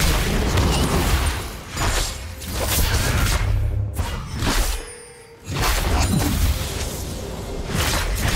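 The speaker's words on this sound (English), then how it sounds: "Red team's turret has been destroyed." A turret is destroyed in League of Legends amid loud game combat, with heavy booms, shattering crashes and whooshing effects coming in waves, a brief lull near the middle before the clamor resumes.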